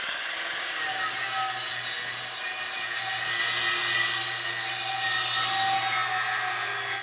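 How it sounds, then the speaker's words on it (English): Paint is scraped and abraded off a damaged wheel to expose a crack, a continuous close rasping grind with a steady low hum underneath and no pauses. "what I'm doing is I'm cleaning up the paint off of the area that I'm working on so I can expose where the crack is"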